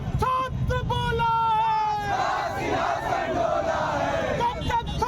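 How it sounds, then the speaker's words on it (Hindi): Jharkhand Mukti Morcha workers protesting in the street shout slogans in unison, a loud crowd chant with rising and falling voices that blurs into a roaring hubbub. "झारखंड मुक्ति मोर्चा के कार्यकर्ता सड़कों पर विरोध प्रदर्शन करते नजर आए।"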